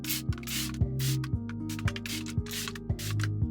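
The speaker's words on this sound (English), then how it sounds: "So I spray the whole thing with isopropyl alcohol." Isopropyl alcohol is sprayed over an epoxy resin table top in about five short, evenly spaced hissing bursts, with steady background music and soft clicks underneath.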